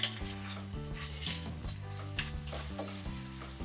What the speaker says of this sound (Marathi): आपण आता याला हलवून घेऊयात